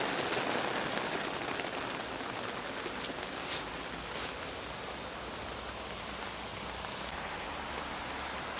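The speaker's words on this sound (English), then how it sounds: "Whilst it's been raining and we are stuck here in the polytunnel" Heavy rain patters steadily and densely on the taut plastic roof of a polytunnel overhead, a constant fine hiss with no voices.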